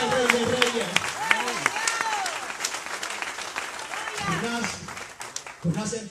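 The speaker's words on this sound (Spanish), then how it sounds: "Tienes ofrenda de palmas al Rey de Reyes" A church congregation claps hands as an offering to the Lord during a Sunday sermon, giving steady, busy clapping under a preacher's voice and a singing crowd that rises and falls.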